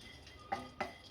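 Dry fruits roasting in a hot, dry kadhai give two short scraping clinks of a spatula against the metal, close and fairly quiet, with no talk.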